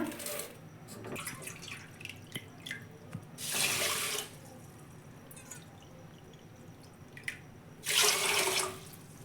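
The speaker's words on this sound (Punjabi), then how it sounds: "ਹੁਣ ਇਹਦੇ ਵਿੱਚ ਆਪਾਂ ਦੋ ਕੌਲੀਆਂ ਪਾ ਦੇਵਾਂਗੇ ਪਾਣੀ ਦੀਆਂ" Water is poured from a bowl into a pot in two separate splashing bursts, each about a second long, for jalebi sugar syrup in a home kitchen, with quiet clinks and drips between.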